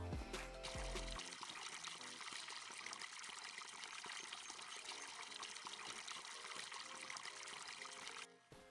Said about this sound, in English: We grab our hose.